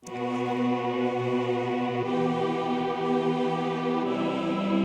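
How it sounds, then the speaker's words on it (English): A sustained, choir-like synth pad, the Epic preset from Native Instruments Ignition Keys, holds rich stacked harmonics at a steady loud level, with a slight chord shift partway through and no voices. "Next I found this epic sounding choir-ish pad called Epic."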